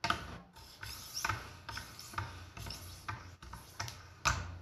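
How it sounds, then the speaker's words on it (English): Rasping strokes of a vintage Wusthof kitchen knife being honed after a tip repair and burr removal, about six separate rubbing passes spaced roughly evenly, close and fairly quiet. "And then do a nice little honing stroke here."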